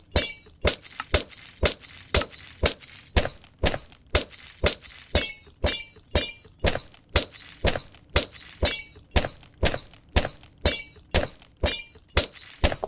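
Glass shatters over and over in Minecraft, sharp crisp breaking bursts repeating at a quick steady rhythm, each crash followed by a short tinkle, with no voices.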